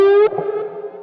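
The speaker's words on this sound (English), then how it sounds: "you can still hear the sort of warbling waves that come from the chorus" A single distorted electric guitar note rings out loudly, then decays with a wavering, shimmering chorus tail.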